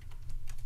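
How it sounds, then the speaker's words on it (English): Quick, faint keystrokes on a computer keyboard, a few light clicks in a brief burst with nothing else around them. "Let me spell that out and type it for you real quick."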